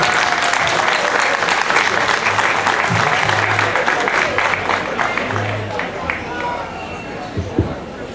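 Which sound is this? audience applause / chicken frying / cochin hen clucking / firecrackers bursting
audience applause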